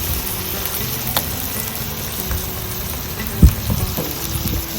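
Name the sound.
food frying in oil in a pan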